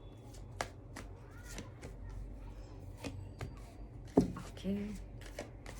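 Tarot cards being shuffled for a reading, a few quick riffling and slapping bursts with a sharper snap near the end, close and moderately quiet, mixed with brief talk.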